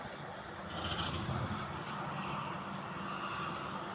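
Tractor engine running at a stone-and-soil loading site beside a JCB, a steady, fairly loud broadband rumble that holds throughout, with no talk.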